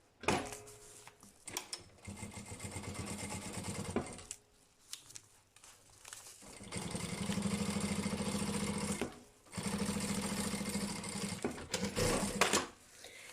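A sewing machine stitching fabric for a lunch bag runs in two long bursts of rapid mechanical whirring, with quiet handling of the cloth between the runs.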